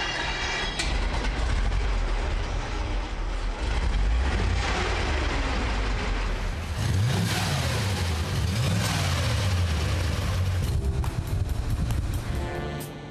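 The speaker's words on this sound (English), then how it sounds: "V8 engine with a 3-liter displacement, overhead camshafts, and 75 horsepower." A vintage car with a 3-liter overhead-cam V8 accelerates hard, its engine note climbing through gears in loud sweeps over road rumble for about thirteen seconds.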